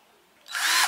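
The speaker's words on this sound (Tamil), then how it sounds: "இந்த இடத்துல இந்த கரெக்டாக ட்ரில் மிஷின் வந்து சுத்த மாட்டேங்குது" A Cheston cordless 10mm drill spins up with a sudden high whine that holds briefly at full speed, close and loud after a quiet start.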